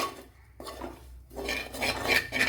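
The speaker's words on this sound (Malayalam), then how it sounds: "ഇനി ഇതിനെ ഒന്ന് മൂപ്പിച്ചെടുക്കണം. നല്ലതുപോലെ ഒന്ന് വറുത്തെടുക്കണം." Scraping and stirring as spices roast in a pan, a spoon rasping against the metal in uneven bursts with short pauses.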